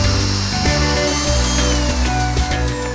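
A power drill runs steadily and loudly up close, boring into a metal mill base with oil on the bit, its motor whine holding constant with slight pitch shifts as it grinds into the metal.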